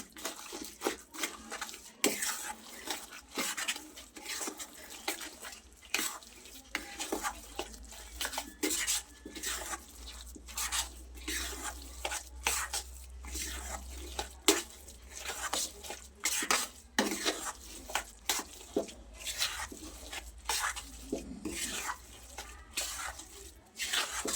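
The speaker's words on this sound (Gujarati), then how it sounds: "હવે બધું સરસ મિક્સ કરી લઈએ." A spoon stirs and scrapes through a thick adadiya mixture of urad dal flour with sugar syrup in a metal pan, soft repeated clinks and scrapes at a quiet, close level.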